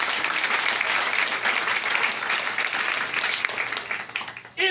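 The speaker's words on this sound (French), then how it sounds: "C'est pourquoi je voudrais qu'on les applaudisse." Loud, dense applause from a crowd at a political gathering in Côte d'Ivoire, sustained and close, fading briefly near the end before swelling again.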